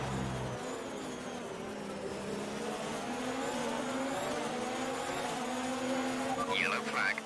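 Formula 1 cars in F1 2019 at the Baku street circuit roar as they accelerate back to racing speed, a sustained dense engine whine building steadily throughout, with faint voice traces mixed underneath.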